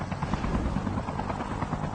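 A helicopter in the mobile shooter Call of Duty Mobile battle royale gives a loud, steady rotor thump and engine roar that fills the whole moment, close by, with no talk over it.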